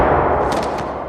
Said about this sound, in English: Oh, did Carly shoot Sharon?